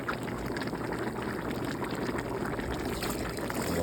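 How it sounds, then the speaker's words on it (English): Chicken broth, six quarts of it, pours steadily into a big pot for jambalaya, a continuous splashing, gurgling wash that holds close and fairly loud throughout with no voices. "I'm going to use 6 quarts of the chicken broth today, and the remaining amount I'm just going to use water."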